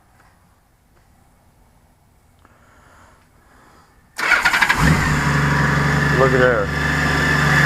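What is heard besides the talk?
trike engine starting and firing up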